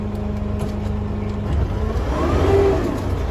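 The engine of a Sherp Pro XT amphibious off-road vehicle stuck in terrain drones and rises in a sustained rev, close and fairly loud, swelling toward the end.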